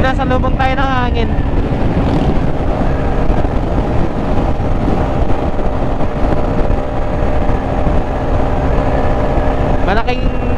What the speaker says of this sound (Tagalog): Malakas kasi yung hangin. Sinasalubong tayo ng hangin.